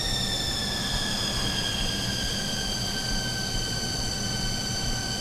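A machine tool spins at 1200 RPM cutting a profile, giving a steady mechanical hum with sustained high whining tones that hold evenly throughout.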